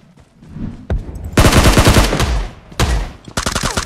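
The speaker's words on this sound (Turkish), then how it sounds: "Tabanca sıkıyordum adama ya." Rapid bursts of pistol gunfire in the mobile battle royale game PUBG Mobile, loud close shots in quick clusters separated by short pauses.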